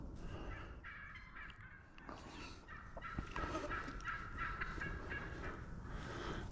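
Wild turkeys in Florida, a mix of hens and young jakes, calling in a steady run of gobbles and clucks that overlap at moderate distance, with no voices over them.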